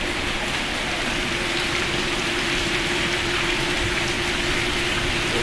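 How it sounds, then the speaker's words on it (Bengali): Heavy rain pours down in a dense, unbroken roar of drops hitting surfaces, loud and steady from start to finish with no voices. "এত জোরে বৃষ্টি হচ্ছে"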